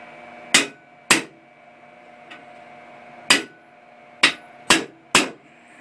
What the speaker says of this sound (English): I don't want to beat up my good hammer pounding on this punch